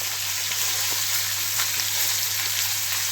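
Pheasant browns in a hot pan, a steady close sizzle and crackle of frying running evenly throughout with no talk.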